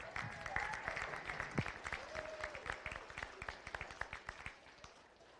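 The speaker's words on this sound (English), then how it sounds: "Let's give another big round of applause, please." An audience at a county beef cattle show claps in a burst of applause that peaks early and tapers off over several seconds, fairly distant and moderately loud.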